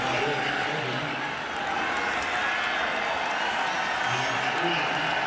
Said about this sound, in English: It's a huge group of Sparty fans here in Maryland, trying to make noise on 3rd down.